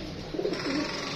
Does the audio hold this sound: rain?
no